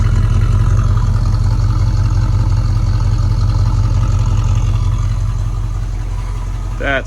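A 1969 Buick Skylark engine idles steadily close by, a deep throbbing exhaust rumble with a fast lumpy pulse and faint valvetrain clatter, continuous before tapering slightly at the end.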